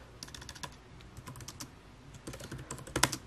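Light, irregular tapping of keys on a computer keyboard, close and quiet, with a small burst of quicker strokes near the end and no talking.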